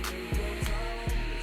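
A portable AC fan blows at a high setting, with a steady, loud, hair-dryer-like whoosh and hum, plus a few soft low thumps.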